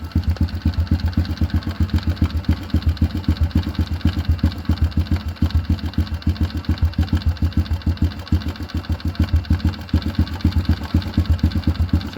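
Honda CRF110 motorcycle engine idling during idle adjustment, a loud, close, steady rapid putter with even firing pulses throughout and no talk.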